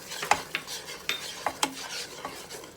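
A spoon stirring cinnamon and nutmeg into a candied yam mixture in a Power XL cooker, about six or seven distinct clinks and scrapes against the pot over a soft sizzle, no talking.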